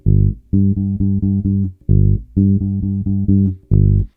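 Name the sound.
bass guitar playing a bass line at tempo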